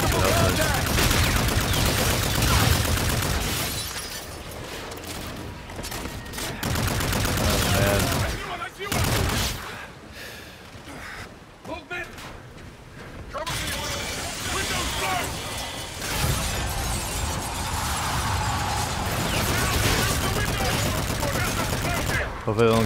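Gunfire in the video game Call of Duty Infinite Warfare, with bursts of automatic fire and shots coming in dense stretches broken by brief lulls, mixed with game sounds and a person talking over the action.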